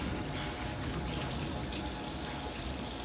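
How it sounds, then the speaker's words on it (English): Tap water running steadily into a kitchen sink while hands are rinsed of soap, a dense, even splashing hiss that fills the whole stretch without pause and without voices. "Turn off the water."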